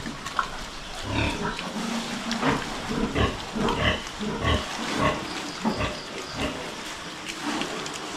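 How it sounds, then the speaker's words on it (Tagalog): A pen of twelve pigs with newly weaned piglets grunting and oinking, a busy close chorus of overlapping snorts and short squeals running throughout, with no talk. "Subukan natin kung hindi ba magsiksikan dito yung ating 12 baboy pag"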